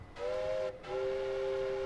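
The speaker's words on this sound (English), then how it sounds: "Here's some bells and whistles, and obviously the ship is being powered up." A steam whistle blows as a ship powers up, two sustained tonal blasts with a brief gap between them, steady and fairly loud over a low background hum.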